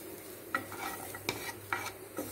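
Ten peeled, crushed garlic cloves frying lightly in a pan for paruppu podi, with a steady low sizzle broken by four sharp spoon-stirring scrapes spaced through the short stretch.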